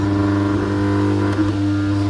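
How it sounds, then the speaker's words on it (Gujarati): Radiator fan fitted to a motorcycle with a fault, a steady close whirring drone with constant tonal hum, running alone without talk. "જે ફેન નાખેલો ને એ ફેનનો અવાજ આવે"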